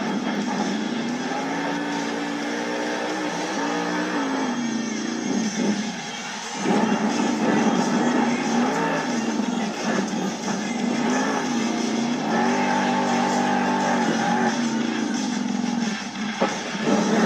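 A monster truck's engine roars and revs steadily through a freestyle run at a Monster Jam stadium event in Indianapolis, loud and sustained with a few surging peaks.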